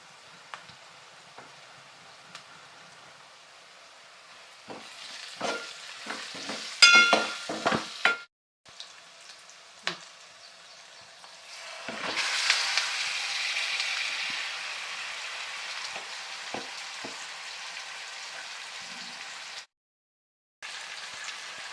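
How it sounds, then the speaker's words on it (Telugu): Chicken and turmeric added to a pan with ginger-garlic paste give a soft sizzle and frying hiss for a homestyle chicken curry, with clinking stirs and a louder burst of sizzling midway, briefly cut to silence. "ఇప్పుడు పసుపు వేసుకొని చికెన్ వేసుకుందాం మనం."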